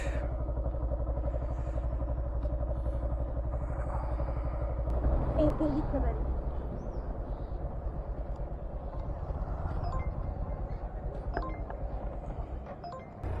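A motorcycle taxi's engine idles and runs steadily close by, with a slight rise in revs midway as the bike gets going, while small clinks and rattles sound over the continuous low rumble.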